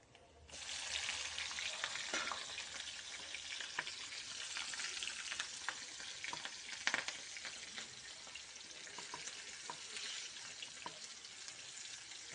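Lentils fry in oil in a pan with a steady, close crackling sizzle, stirred now and then with a few sharper pops and scrapes, continuing for over ten seconds without talk.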